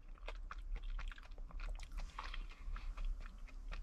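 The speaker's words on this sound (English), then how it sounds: "I gotta stop chewing before I talk again here." Close, moist chewing and soft crunching of a Grenade lemon cheesecake protein bar, steady mouth sounds continuing throughout with no talking.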